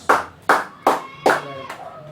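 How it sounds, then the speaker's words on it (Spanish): Congregation in a church claps together in slow unison, five sharp, loud claps spaced about evenly, with no talking over them. "Dale un aplauso al Señor Jesucristo."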